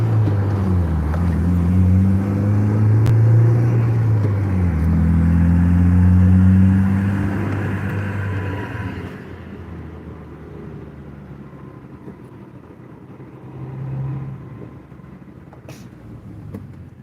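Manual-transmission car slowing to a stop, clutch being let off: a loud engine drone falls in pitch and fades to a low idle rumble with a brief swell near the end.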